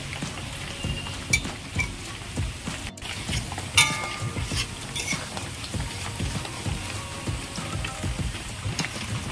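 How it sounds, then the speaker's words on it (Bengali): Jackfruit seed pakoras deep-fry in oil with a steady, fine crackling patter at moderate volume and a few sharper pops, with no talking. "কাঁঠাল দানার পকোড়াগুলো আমি লাল লাল করে ভেজে নিয়েছি।"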